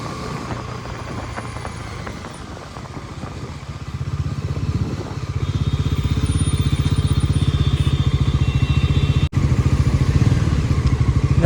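A Bajaj Pulsar NS400Z motorcycle ridden on the road, its engine droning steadily and rising in pitch and loudness as it accelerates, with rushing wind noise close by.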